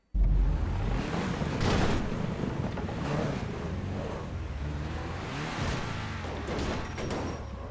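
A car plunges into water in GTA 5, giving a loud splash followed by a continuous churning, surf-like rush with gusty wind noise. No voices are heard.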